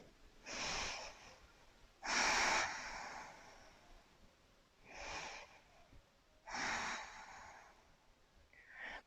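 Slow, deep breaths during a power yoga pose: four distinct breathy exhales or inhales spaced a couple of seconds apart, close and clear, with quiet pauses between and no talking.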